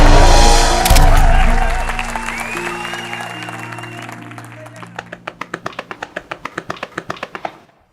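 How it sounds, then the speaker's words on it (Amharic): An audience applauds loudly at first, then the clapping thins and fades into a few scattered, rhythmic hand claps that stop near the end. "አጨብጭቡላት።"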